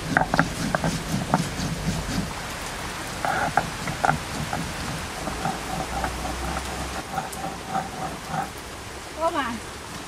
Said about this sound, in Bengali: বৃষ্টি আজকে আর থামবে না